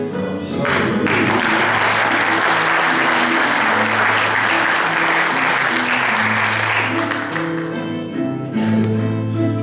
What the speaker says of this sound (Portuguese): Deem palmas a estes dois